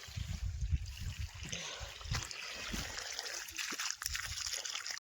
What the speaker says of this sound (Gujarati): હવે ડુંગળીમાં પાણી ચાલે છે